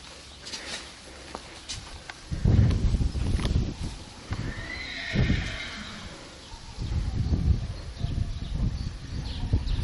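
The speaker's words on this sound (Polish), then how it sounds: "słyszę jakiegoś konia" A horse whinnies and snorts outdoors, with scattered hoof clops and faint birdsong around it, the neighs coming in loud bursts.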